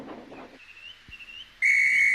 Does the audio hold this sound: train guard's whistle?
yes